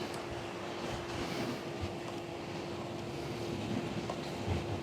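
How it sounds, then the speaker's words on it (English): Wind buffets a microphone outdoors in Houston, producing a steady low rumble and hiss throughout, with a faint constant hum beneath it and no speech. "And it's windy."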